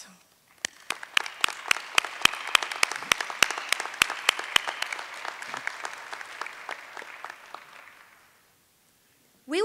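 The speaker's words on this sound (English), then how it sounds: "Will any selection committee members in attendance please stand for a round of applause?" Audience at a student of the year recognition ceremony applauds as selection committee members stand, a dense wash of many hands clapping with a few sharp nearby claps on top, steady for about eight seconds before fading out into silence.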